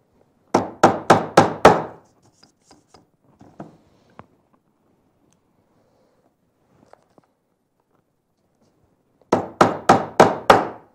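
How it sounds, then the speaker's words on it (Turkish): A small 200-gram hammer taps metal filigree in two quick bursts of five sharp, evenly spaced strikes, one at the start and one at the end, with a near-silent pause and a few faint knocks between them. "200 gramlık çekiç kullanıyor"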